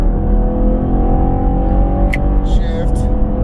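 A 2020 Chevrolet Camaro LT V6 with a 10-speed automatic pulls under acceleration, its steady low engine drone heard from inside the cabin beneath someone talking throughout.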